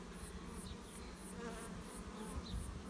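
Bees buzz steadily around an open hive during a sunflower honey harvest, a close, dense hum with a faint chirping insect pulsing in the background and no voices.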